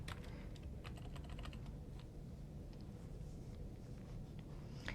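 Someone types a badge number into a payroll form on a computer keyboard, a quick run of soft, close key clicks over a steady low background hum, with no talking.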